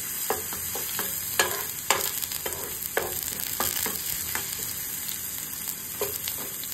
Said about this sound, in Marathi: लसूण छान असं व्यवस्थित परतून घ्यायचा